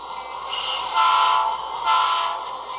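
An HO scale model train rolls along a small 1 by 6 foot switching layout, giving a steady, close mechanical whir and rumble that swells twice, with no talk over it.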